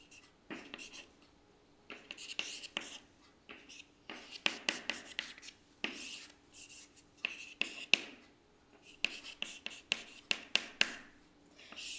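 Chalk or marker scratching on a board during a mathematics lecture, a steady series of short sharp strokes in irregular rhythm, fairly close and clear with little talk over it.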